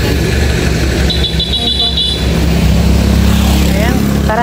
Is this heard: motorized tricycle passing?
yes